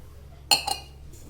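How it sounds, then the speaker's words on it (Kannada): A metal idli steamer pot filled with water is set down on a stove, giving two quick, close metallic clanks with a faint ring and no one speaking. "ಇವಾಗ ಒಲೆ ಮೇಲೆ ಇಡ್ಲಿ ಪಾತ್ರೆಗೆ ನೀರು ಹಾಕಿ ಕಾಯೋಕ್ಕೆ ಇಡ್ತೀನಿ"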